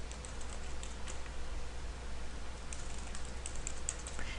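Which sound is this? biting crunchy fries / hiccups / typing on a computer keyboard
typing on a computer keyboard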